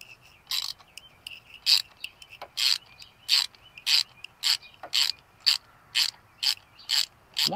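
Ratchet turning a spark plug socket, a dozen or so evenly spaced clicking bursts in a steady back-and-forth rhythm, close and crisp with no talk.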